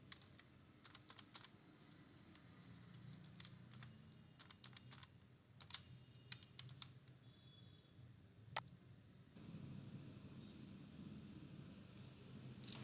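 Keys tapped on a computer keyboard while entering a username and password to set up a Dahua IP camera, with quick irregular bursts of clicks and a few sharper isolated key hits over a steady low room hum.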